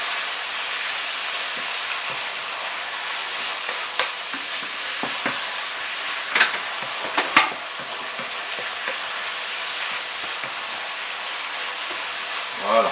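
Thin-sliced chicken frying in a pan, a steady close sizzle with occasional stirring clicks and scrapes running throughout.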